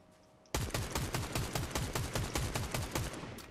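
Gunfire from a Fortnite duo builds match bursts out suddenly after a quiet start, a loud, rapid string of sharp, evenly spaced shots, like sustained automatic fire, running to the end without talk.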